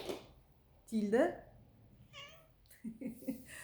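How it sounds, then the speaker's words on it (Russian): A house cat meows in a few short, rising calls near the microphone, with quiet pauses between them and a soft voice or background sound toward the end. "у нас, как обычно, без кошки в кадре не обходится"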